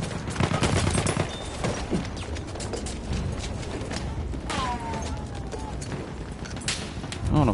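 Gunfire in Battlefield 1 crackles through the whole stretch as steady bursts and scattered shots of mixed distance, with a voice talking over the battle.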